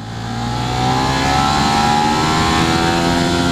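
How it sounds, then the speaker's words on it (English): A 2016 Ducati Monster 1200R engine held against its rev limiter in second gear, a loud, steady high-pitched buzzing drone that builds slightly, then stutters evenly at the cutoff, close and continuous with no talking. "when you hit the rev limiter"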